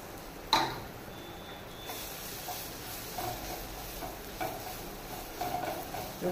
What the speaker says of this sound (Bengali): রসুনটা একটু সাঁতলে নেবার পর